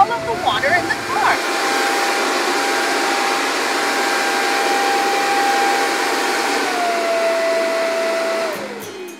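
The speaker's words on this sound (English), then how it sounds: "That's the dryer. The air is blowing so strong, drying up all of the water in the car." A car wash's air dryer blows hard over a red car, a loud steady whooshing roar with a faint droning tone that winds down near the end, following a short burst of clatter.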